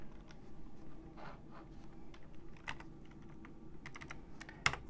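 A computer keyboard is typed on at a quiet, close range, with irregular bursts of key clicks and one sharper tap near the end, set against soft room noise.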